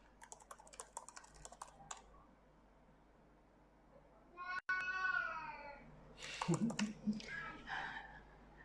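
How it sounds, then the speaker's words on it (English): Domestic cat meowing in a series of mid-length, rising cries in the latter half, heard after clicks of computer-keyboard typing, at moderate loudness indoors with no talk. "That's the cat."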